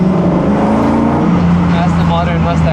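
A Ford Mustang Mach 1 with its Coyote V8 and tuned exhaust burbles with a deep, steady engine note, rising slightly partway through, close and loud.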